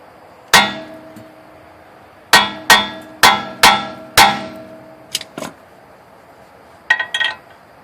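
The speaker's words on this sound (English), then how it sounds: "you can just go ahead and tap the rest of it in." Strut bolts on a Saab being tapped into place with a hammer, a close, loud metallic clang followed by a rapid series of five ringing strikes, then a few lighter taps.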